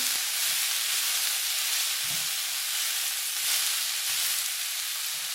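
Asparagus and carrots sizzle steadily in a hot pan during a chicken stir-fry, a dense continuous frying hiss with a few soft low knocks of stirring, fairly close and loud, with no talking.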